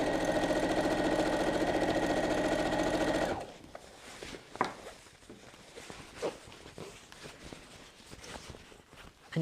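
A sewing machine runs fast and steady while top stitching a fabric apron, giving a loud close whirring hum for about three seconds before stopping. Quiet handling rustles of fabric follow.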